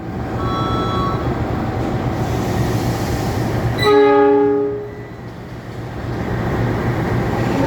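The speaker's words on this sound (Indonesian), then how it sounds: "lokomotif yang dinas hari ini adalah CC206 1506 Depo Induk Sidotopo" Indonesian CC206 diesel locomotive from Sidotopo depot running with steady rail rumble, its horn blasting once loudly for about a second midway, with a lingering multi-tone ring before the train noise returns.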